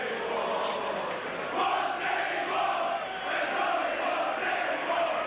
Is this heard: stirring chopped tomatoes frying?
no